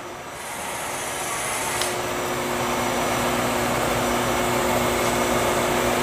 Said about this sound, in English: There's the motorized workhead and the table travel. The table travel is done by a servo motor and ball screw.